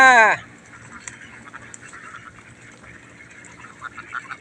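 A flock of ducks quacks near and loud in a brief burst at the start, then softer scattered quacks and rustling continue in the background.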